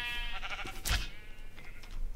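Sheep in the Minecraft modpack FoolCraft bleating, with a couple of tonal, wavering bleats that overlap over about two seconds at moderate loudness, without any talk.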